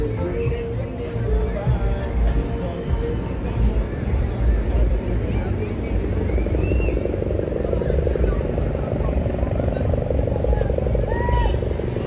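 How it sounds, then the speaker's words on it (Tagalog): A helicopter circles over a New Year crowd at the Corniche in Abu Dhabi, a steady low rotor drone beneath loud crowd babble and nearby voices throughout. "ayun yung helicopter oh balik-balik tinitingnan yun nangyayari sa ground"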